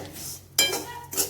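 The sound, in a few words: stirring salt into poha chivda in a pan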